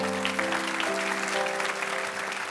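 Applause from a church congregation during an Indonesian sermon, a steady wash of clapping filling the whole stretch, with sustained organ or keyboard tones held underneath.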